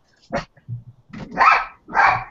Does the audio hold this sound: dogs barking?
yes